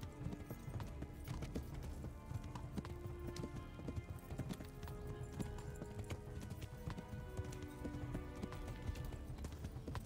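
A horse gallops in a steady, continuous clip-clop during a horse race in the medieval game Kingdom Come: Deliverance. The hoofbeats are loud and close and continue for the whole stretch without talk.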